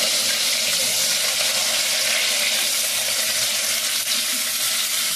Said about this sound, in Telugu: ఉల్లిపాయలు అయితే వేగుతూ ఉన్నాయండి